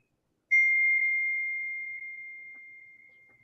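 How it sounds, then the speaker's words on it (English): An iPhone message notification bell strikes once and rings out as a single clear, pure tone that slowly fades over a few seconds in an otherwise quiet room. "my sister's messages from her iPhone keep popping in"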